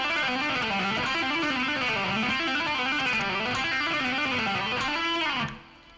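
Fast electric guitar lick of hammer-ons and pull-offs: a rapid, continuous legato run with wavering pitch patterns, lightly driven tone, played solo and close before cutting off near the end.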